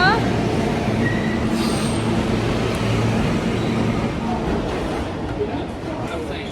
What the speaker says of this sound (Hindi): अब हमारा ट्रेन आ गया।